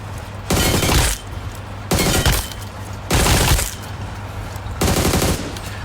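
Automatic AUG rifle fire in the game PUBG comes in four loud, close sustained bursts, each roughly half a second long, separated by brief pauses.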